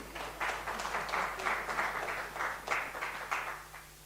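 An audience at a research symposium claps in a moderate, slightly rhythmic run of applause, fairly close and continuous, over a low steady hum from the room.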